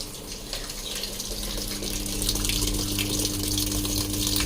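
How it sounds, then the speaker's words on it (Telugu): Water pours steadily into a Samsung top-load washing machine during a home repair, a continuous rushing flow that grows slightly louder over time over a low mechanical hum, with no talking. "వాటర్ అయితే పడుతుంది."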